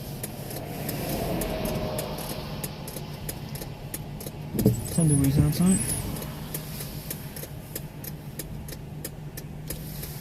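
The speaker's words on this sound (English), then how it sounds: "Of course, there's a lot of cars coming right now." Cars pass along a main road, a continuous traffic rumble with one louder vehicle sweeping by midway, while a person talks over it.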